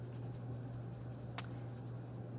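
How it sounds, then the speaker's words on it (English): A colored pencil rubbing steadily across paper as its lead wears dull, a soft continuous scratching close up against a low steady hum, with one brief sharp tick partway through. "I'm going to color a little bit too long on one side so that the pencil itself, the lead becomes really dull."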